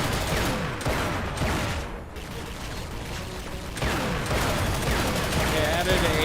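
Rapid gunfire rattles almost nonstop in Chronicles of Riddick: Escape From Butcher Bay, dense overlapping shots with mechanical clatter, while a voice talks over it.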